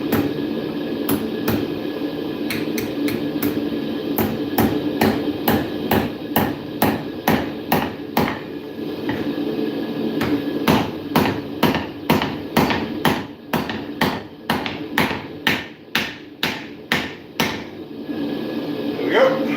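Hammer blows ring out while a steel wedge for a driving hammer is forged at a smithing anvil, a steady series of sharp metallic strikes in quick irregular rhythm, close and loud, with a few brief pauses between bursts.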